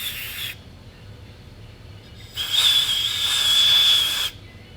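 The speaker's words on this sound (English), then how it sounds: "Also like to clean these high and low jets with a little air" Compressed air blasts through the high and low jets of a Stihl TS410/TS420 concrete saw carburetor: two close, sharp hissing bursts, a short one and then a longer one, with quiet between.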